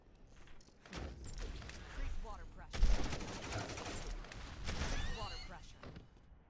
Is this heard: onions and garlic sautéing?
no